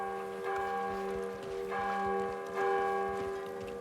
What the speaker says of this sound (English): I suppose let's ring the bell.